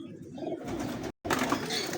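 Domestic pigeons of a fancy breed cooing in a loft, a steady low murmur of soft calls lasting through the clip, briefly cut off near the middle.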